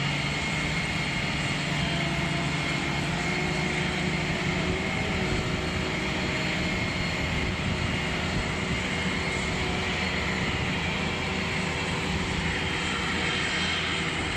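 A Boeing 747 jumbo jet being pushed back before engine start, heard as a loud, steady broadband rumble and whine that holds unchanged throughout, with no voices.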